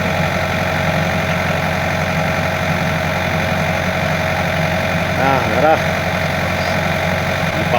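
A Yanmar engine idles steadily and close by in an outdoor setting where the machine is stuck, a continuous low rumbling drone with people talking over it.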